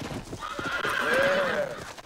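Close, clear horse whinny with a rising then falling pitch, over steady clip-clop of hooves, from the video game Red Dead Redemption.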